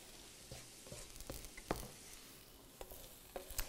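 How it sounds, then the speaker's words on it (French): Onions tipped into a pan of sizzling sauce, a steady close frying hiss broken by several sharp clatters and stirring knocks scattered through. "on va venir ajouter nos oignons à notre sauce ici"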